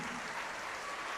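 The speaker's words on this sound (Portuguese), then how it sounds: "vamos desocupar as mãos e dar para esta palavra a melhor salva de palmas que já ouvimos aqui" Brief, faint applause from a church congregation, a soft wash of clapping heard at a distance with no talking.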